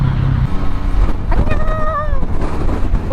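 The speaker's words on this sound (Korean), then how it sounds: "왜 이렇게 바람이 심하지?" Strong wind roars and buffets the microphone while riding a Yamaha MT-09 SP motorcycle on an autumn day, a steady loud rush with brief rising whistling tones partway through.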